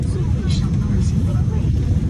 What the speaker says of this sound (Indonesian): Di dalam pesawat.